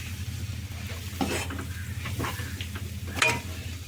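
Crab masala fry stirred in a hot pan, steady sizzling frying with a few scraping stirs and one sharp clink of a utensil against the pan near the end, close and moderately loud, no voices.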